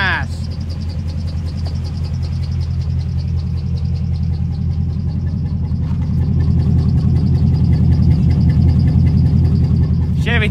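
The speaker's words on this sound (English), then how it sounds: "All right, second test drive. And it just goes right in reverse." A 2000 Chevy 3500 truck engine runs steadily through a test drive, a dense low rumble that swells slightly partway through and holds continuous and close, with faint background sounds on top.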